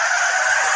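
Tires squeal loudly under hard braking as a car skids on a highway, a dense, continuous screech filling the whole moment at close range.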